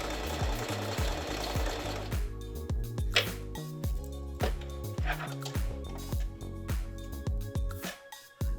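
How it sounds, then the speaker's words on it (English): A domestic sewing machine runs a zigzag stitch along the unfinished edges of cut hoodie pieces. It makes a loud, rhythmic, rapid mechanical chatter in short bursts with brief pauses, close up and alone. "get close to the edge and just do a zigzag stitch"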